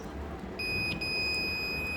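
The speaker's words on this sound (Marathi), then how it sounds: "तर ते त्यांनी डिटेक्ट केलं आणि इथे बझर वाजला." The buzzer of a landslide detector model sounds a steady high electronic tone that starts abruptly and holds continuously, loud and close over a low background hum.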